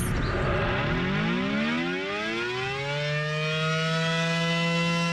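A loud outdoor severe weather warning siren wails steadily, its pitch sliding down and then holding a sustained droning tone.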